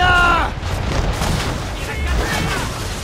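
A booming cannon volley from warships in an Assassin's Creed 3 sea battle, loud at first and then rolling on as a low, rumbling barrage, with a voice briefly over the start.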